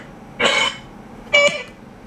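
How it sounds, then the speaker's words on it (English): A woman coughs twice, a short raspy cough and then a second, throatier one, fairly close in an otherwise quiet space. "I believe it's a female cough."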